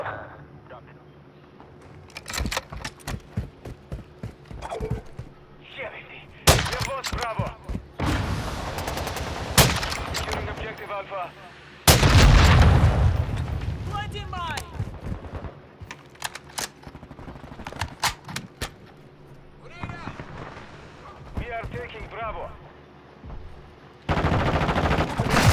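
Rifle gunfire in Call of Duty: Modern Warfare II, rapid bursts and single cracks in irregular clusters with explosions mixed in, loud and close, while a player talks over the game action.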